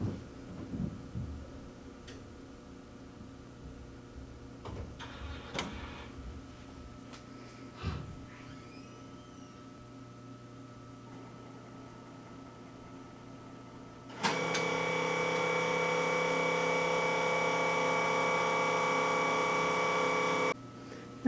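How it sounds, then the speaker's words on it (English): An Epson large-format printer, one of the 7890, 9890, 7900 or 9900 models, started in serviceman mode: a few faint clicks and mechanical whirs, then a loud, steady motorized hum with tonal whine from the carriage running for several seconds before it stops abruptly. "I'm going to turn the printer on in serviceman mode, pushing the down, center, and right button while turning it on."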